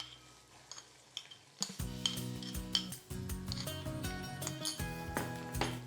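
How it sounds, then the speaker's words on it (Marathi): Finely chopped onion fries in oil in a pan with green chillies, sizzling steadily while a utensil stirs and scrapes against the metal in repeated close strokes, quiet at first then louder. "आणि सोनेरी रंगावर कांदा छान परतून घेऊया."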